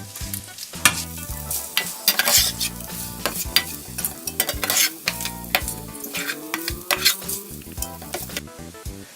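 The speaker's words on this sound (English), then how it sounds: "once your Spam is in the pan, all you have to do is just cook it until it's all nice and brownish" Spam slices browning in a pan for a Korean rice bowl, with a loud steady sizzle broken by clattering stirring and scraping of a utensil against the pan, no voices.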